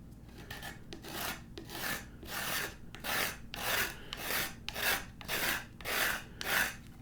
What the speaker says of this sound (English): So I'm going to use the scraper again. Just going to come along and clean them all off.